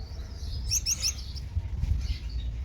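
Small cage birds, canaries and goldfinches kept alongside a Moroccan bulbul, give a brief burst of several quick high chirps near the middle, over a low steady background rumble.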